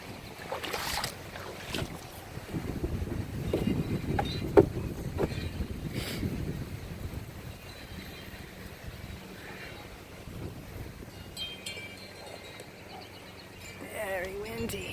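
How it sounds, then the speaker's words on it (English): Strong wind blows across a floating dock on open water, rumbling in gusts that buffet the microphone, loudest early then easing to a lower roar. A person talks intermittently underneath. "Very windy."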